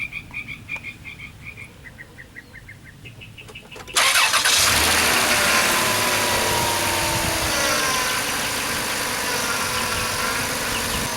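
A 2005 Dodge Grand Caravan SXT with a new power steering reservoir starts up after a few seconds of quiet ticking and beeping, then idles loudly and steadily close by while the steering wheel is turned side to side.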